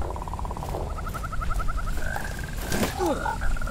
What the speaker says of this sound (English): it's that frog.